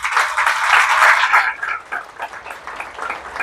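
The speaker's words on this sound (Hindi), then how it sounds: "सर के लिए तालियां" School orientation audience claps for the principal, a burst of dense applause for about a second and a half that then thins into scattered, fading claps.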